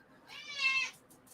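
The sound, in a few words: cat meowing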